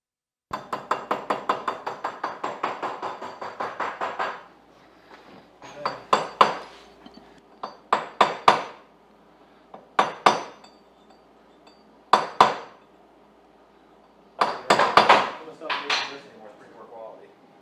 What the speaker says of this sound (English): So we can use a hammer right now just to knock it down until you get it flush.